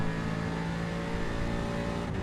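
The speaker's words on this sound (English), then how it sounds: "Good sound inside also when you are driving it." A race car engine in the iRacing sim at the Nordschleife, heard from inside the cockpit, drones with a constant, loud tonal hum that barely shifts in pitch, alone without any talk.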